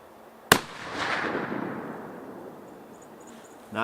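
One loud rifle report from a hand-reloaded round fired outdoors, a sharp crack followed by a long rolling echo that fades over a few seconds, with a faint second pop at the end.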